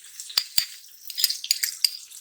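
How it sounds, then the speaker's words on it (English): Light crackling and spitting pops from garlic frying in butter in a hot pan, quiet and intermittent with a soft hiss between bursts. "You hear that sizzle right away, that's what we're going for."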